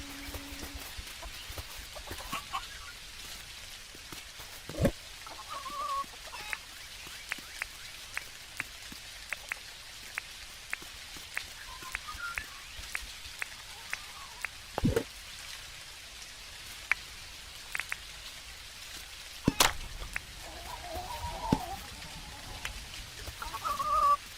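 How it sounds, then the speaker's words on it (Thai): Chickens cluck in short scattered bursts in the video game Dinkum, quiet under a soft hiss of rain with occasional sharp ticks. "ไก่มาส่งแล้วจ้า"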